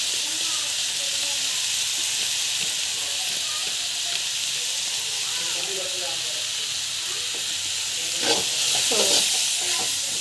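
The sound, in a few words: sautéing bisibelebele masala in a pan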